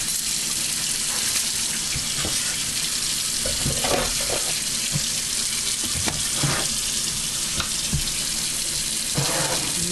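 A kitchen tap runs steadily into a sink while hands are rinsed, a constant close broadband water hiss with small splashes and clunks throughout.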